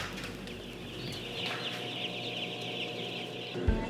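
Many chickens cluck softly inside a poultry barn, a dense murmur of hens under a steady low hum of barn ventilation, fairly quiet and continuous with no talk.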